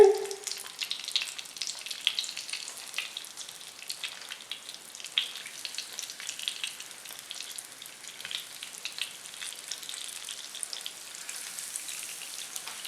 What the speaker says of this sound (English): You can hear them boys sizzling.